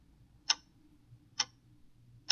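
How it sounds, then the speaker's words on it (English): A SoundMe noise machine plays a clock-ticking sound: three crisp, evenly spaced ticks about a second apart over a low background hum, close and clear with no voices. "This one is a clock ticking."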